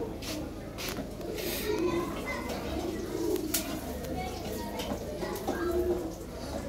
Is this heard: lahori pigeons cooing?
yes